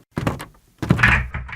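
Two heavy knocks or thunks on a door, staged as a radio-play sound effect, each a short dull impact cluster, close and fairly loud, with a brief gap between them and no voices.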